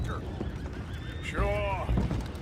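A horse whinnies in Red Dead Redemption 2, a rising and falling neigh near the middle of the clip, with hoof clatter and low game ambience around it.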